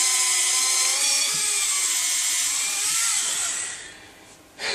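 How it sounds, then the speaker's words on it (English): A Tamiya Handy Drill bores into a model base for a Mercury 9 build, a steady high-pitched whir that drops and trails off near the end before briefly picking back up. "The Tamiya Handy Drill, I cannot tell you how much I use this thing"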